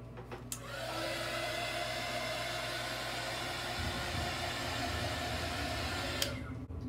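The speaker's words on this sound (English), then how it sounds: "I'm gonna hit it with the heat gun really quick." A heat gun blows steadily on acrylic paint on a canvas, a continuous loud whooshing roar of hot air that holds for about six seconds and then cuts off abruptly.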